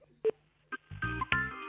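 Several short telephone keypad tones dial out to the Rodez town hall, spaced with a brief pause, then a denser run of tones overlapping near the end.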